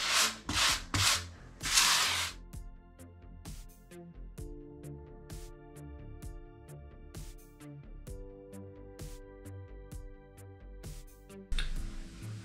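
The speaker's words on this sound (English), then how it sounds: "just work it into all these grout lines" Sanded grout is pressed into bathroom tile grout lines with a float, giving close, raspy rubbing strokes at first, then a long run of softer scraping ticks, with one more loud swipe at the end.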